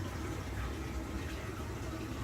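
A 43-gallon fresh-water tank in a shuttle bus RV conversion fills with a constant low, muffled gushing of water, unbroken and fairly near, with no voices.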